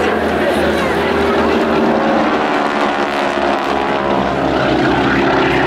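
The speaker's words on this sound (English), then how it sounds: "Very pretty aircraft, bearing their sponsor's name, Breitling." A propeller aircraft in Breitling sponsor livery flies at the Clacton Air Show, heard as a loud, steady engine and airscrew drone with a low throbbing hum throughout.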